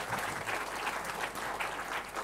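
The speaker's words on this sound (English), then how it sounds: "giving a round of applause for your parents, spouses, family members," Steady, dense applause from a large convocation audience honoring graduates' parents, spouses, family and friends, filling the hall continuously without pause.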